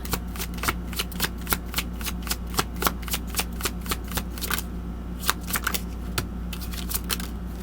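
Tarot cards shuffled by hand in a quiet room, a close run of quick, crisp riffling snaps repeating in a steady rhythm with no voices.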